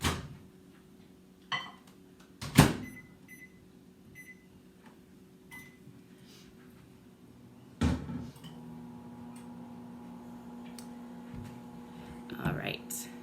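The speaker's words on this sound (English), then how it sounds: "this is gonna go into the microwave. I'm gonna start with 20 seconds and see how it goes from there." A kitchen microwave oven starts up after a few clunks and beeps, settling into a steady low electrical hum that runs on to the end, with small clicks and rustles nearby.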